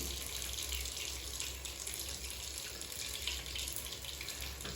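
Steady rush of hot water running from a mixer tap with the pump switched off, continuous and fairly loud with a low hum underneath, no voices.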